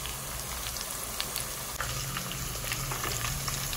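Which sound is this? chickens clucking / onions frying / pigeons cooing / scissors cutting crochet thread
onions frying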